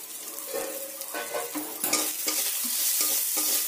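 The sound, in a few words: spices with banana stem being stir-fried in a pan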